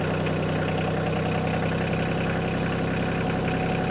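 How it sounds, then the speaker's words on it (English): A tractor engine at idle speed, a steady close low rumble with constant even pitch and no change in revs. "there's the RPMs of the tractor when I start it up and it's at idle, the idling speed"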